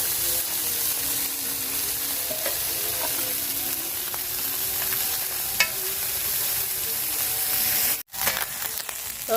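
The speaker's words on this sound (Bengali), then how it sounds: "পুটি মাছগুলা আমার পুকুর থেকে যে পাইছি তো এগুলো আমি ভাজা নিব" Small puti fish caught from a home pond fry in hot oil in a pot, a steady close sizzle running throughout with occasional crackles and a brief clatter near the end.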